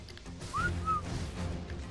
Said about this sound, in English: In a desperate attempt, I try to whistle both of my raptors since they have all the loot on them